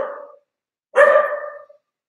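A dog gives a single loud, close bark with a short tail, preceded by a fainter vocal sound, then silence, in a home setting.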